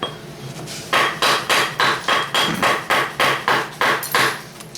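Sharp, ringing stone-on-stone strikes knapping basalt repeat in a steady rhythm, about a dozen hard knocks close by with a bright, clinking edge.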